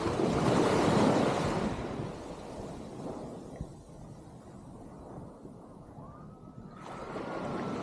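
Sea surf rolls onto the shore in a steady, broad wash, loudest at the start and easing into a softer rumble with some wind buffeting.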